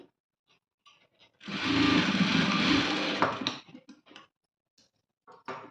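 A sewing machine stitching a blouse seam runs in one loud, close burst of about two seconds, with scattered small clicks and taps of handling before and after.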